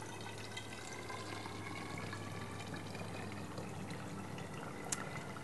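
Coconut water pouring through a funnel into a container for coconut kefir, a steady, soft trickling stream that runs unbroken and fairly quiet, with no talk.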